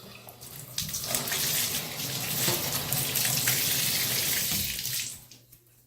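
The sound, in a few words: rinsing hand under tap water in a tub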